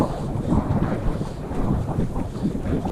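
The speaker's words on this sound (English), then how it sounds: "I don't know whether you can hear us for the wind, because it's pretty exposed up here" Strong wind buffets the microphone on an exposed hilltop with hill forts in the Scottish Borders, a steady low roaring rumble with gusty swells throughout and no voices.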